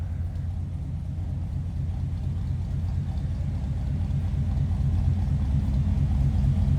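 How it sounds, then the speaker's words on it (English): A 1954 Ford Crestline Skyliner idles from behind the car, its deep, throaty exhaust holding a steady, loud, low rumble with no speech over it. "Nice little deep throaty exhaust note."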